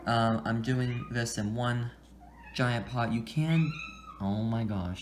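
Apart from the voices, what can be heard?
cat meowing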